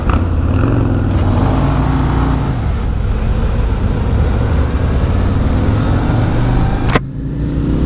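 A Harley-Davidson Road Glide 117 motorcycle revs hard in first gear, its loud, close engine note rising and falling through several pulls before a sharp cut near the end and a lower idle.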